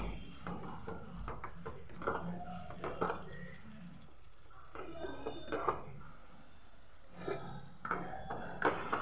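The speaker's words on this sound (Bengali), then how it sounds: "এবার ভেজে রাখা শিমগুলো আমি দিয়ে দেবো, দিয়ে এটা নাড়িয়ে চাড়িয়ে নেব।" Fried flat beans being stirred into a cooked-down spice masala in a pan, with soft scraping and clinking of a spatula against metal coming in uneven bursts, some pauses between strokes.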